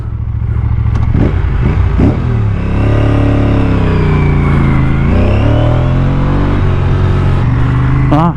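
A modified Aprilia RS457 sport motorcycle with race map enabled and an aftermarket Gabbro Racing exhaust accelerates hard, its engine loud and close, climbing through revs with brief dips at gear changes and no talk.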